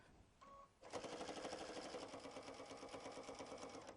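A sewing machine runs continuously at a steady, fast rhythmic whir while stitching binding onto a quilt panel, close and alone after a brief start.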